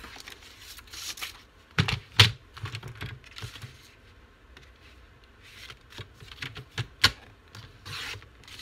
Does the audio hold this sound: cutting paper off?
yes